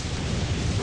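A lightning spell in the video game Tower Conquest: a loud, sustained rumbling crackle like a lightning strike, heavy low-end roar filling the whole moment without a break.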